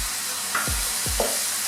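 Chopped medium onion being stirred into sizzling chicken samosa filling in a pan, with a steady fry hiss and two distinct low scraping strokes of the spoon, close and alone.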